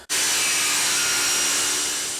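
A loud, steady high-pitched whine of a power tool cutting through plastic, starting abruptly and running continuously at close range.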